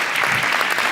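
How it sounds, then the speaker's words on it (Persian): Studio audience applauding on a television talk show, a steady dense wash of clapping filling the whole moment at close range. "خیلی تشویق کنید"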